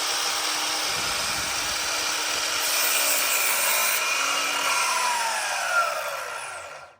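Hand saw cutting through a wooden stick for a simple shelf, a close, continuous rasping drone with steady strokes that fades out as the cut finishes, no talking.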